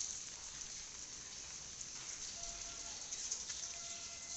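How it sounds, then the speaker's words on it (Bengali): Rain falling outdoors on a windy day, a soft, even hiss of drops on surfaces, faint and continuous with no voices. "বৃষ্টি বৃষ্টি"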